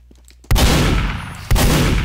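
Two loud, close gunshots from the Scout's weapon in Team Fortress 2, a second apart, each a sharp blast followed by a rumbling decay, with faint game sounds before the first.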